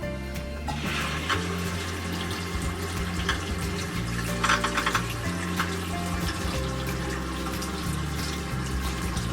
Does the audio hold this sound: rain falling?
no